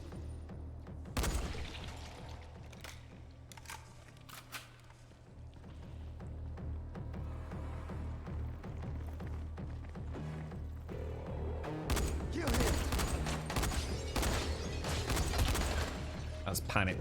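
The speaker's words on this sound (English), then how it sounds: "That's panic firing because you missed the first shot, dude." Guns fire rapidly and erratically in the zombie game Dying Light, with scattered bursts of shots over a dense, busy game soundscape and voices talking throughout.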